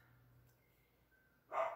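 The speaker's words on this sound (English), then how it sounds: "can be doubly annoyed today with the wind chimes and the barking dog" A dog gives one short bark at a distance, following a faint stretch of quiet room tone.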